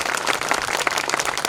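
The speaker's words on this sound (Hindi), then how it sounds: "कासुदा और एरंडोल की पूरी टीम के लिए एक बार जोरदार तालियां" Brief burst of loud, dense clapping from a large audience at a Kasoda and Erandol community program, steady and close with no talk.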